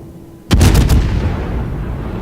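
A heavy cruiser, Monty, fires a salvo of big naval guns in a warship battle game, a sudden loud boom of several rapid blasts followed by a long rumbling decay.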